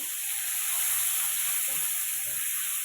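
Garlic and curry leaves frying in hot oil give a steady, bright sizzle that hisses evenly close up, with faint stirring knocks underneath.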